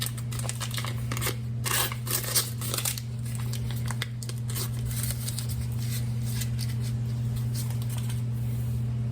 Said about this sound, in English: And we'll take a half a stick of butter. We'll unwrap that and throw it in there.